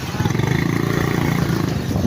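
A motorcycle engine runs steadily and close by, with an even, throbbing idle that holds at a constant level throughout, and no voices can be heard over it.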